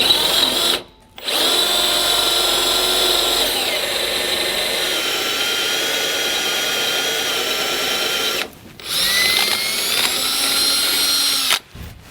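A power drill boring a hole in the frame of a 2020 Mercedes-Benz to fit a Roadmaster rear anti-sway bar, loud steady whining in long runs broken by brief stops.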